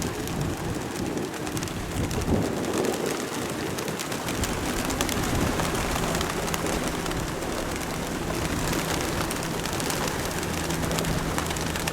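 Racing pigeons coo softly inside a loft, their murmuring nearly lost in a constant, heavy wash of broadband noise resembling rain.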